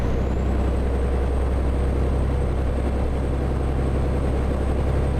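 Old Mack CHU 613 truck in American Truck Simulator, rattling with a steady loud low engine rumble and a thin high whine throughout, no talk.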